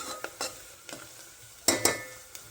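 Onion and capsicum fry in oil for pav bhaji: a light background sizzle broken by sharp spatula clicks and knocks against the pan, spaced irregularly.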